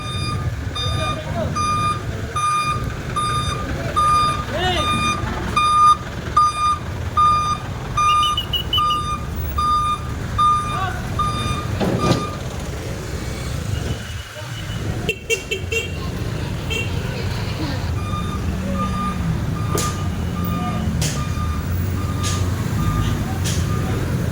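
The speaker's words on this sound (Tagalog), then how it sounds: "O ayan yung tow truck" A tow truck on a city street during an illegal parking clearing operation in Sampaloc gives repeated electronic reversing beeps over traffic rumble, with people talking and a brief horn.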